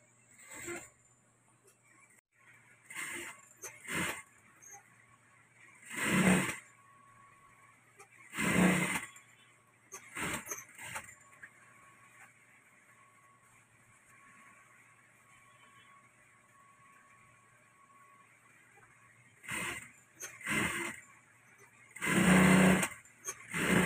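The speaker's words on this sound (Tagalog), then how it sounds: "Dodoblahan lang po natin siya ng tahi para mas matibay." A sewing machine double-stitching a garter shorts seam runs in short separate bursts of rapid whirring, several loud runs spread apart with quiet pauses between them.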